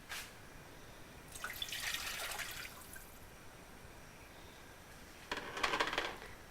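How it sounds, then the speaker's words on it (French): Water pours into a pot of anchovies cooking down into a sauce, a short faint splash near the start, a longer pour around two seconds, then another brief gush toward the end, with no talk. "Je vais en mettre une autre d'eau."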